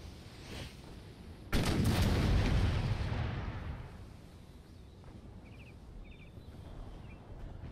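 Artillery in Empire Total War bombards a fortress wall. A loud booming salvo hits, then a long rumbling decay fades into steady battlefield noise.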